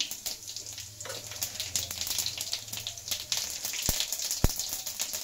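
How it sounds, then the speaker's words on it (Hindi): Cumin seeds sizzling in hot oil, a soft, steady crackle dotted with sharp little pops and spits, fairly quiet and without any voices. "ऑयल गर्म हो गया है डालते हैं इसमें जीरा"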